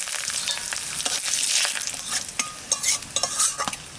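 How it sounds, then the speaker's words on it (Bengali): Cumin seeds, dried chillies and bay leaves fry in hot oil in a pan, a bright steady sizzle with occasional stirring scrapes, close up and without any voices. "তেলের পর দিয়ে দেবো জিরে, আর দেবো শুকনো লঙ্কা, তেজপাতা।"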